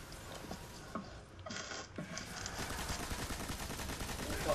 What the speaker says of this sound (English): this machine gun destroys